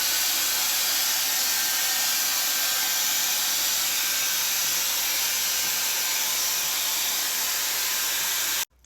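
Shark FlexStyle hair styler with a barrel attachment blowing air, a loud steady close-up whoosh and hiss that runs unbroken before cutting off abruptly at the end, with no talk.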